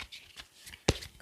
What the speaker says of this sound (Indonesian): saya kocok dulu orakelnya